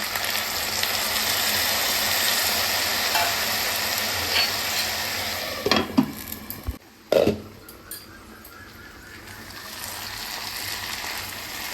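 Papaya and potato curry with chana dal sizzles steadily in a pan, a broad close hiss broken midway by a few stirring knocks and a short gap, then the frying resumes more quietly.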